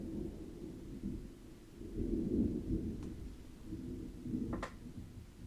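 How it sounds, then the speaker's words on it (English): Thunder outside a window, heard from indoors as a low, rolling rumble that builds and fades over several seconds, fairly faint and muffled, with a couple of small knocks. "Oh, that was a loud thunder."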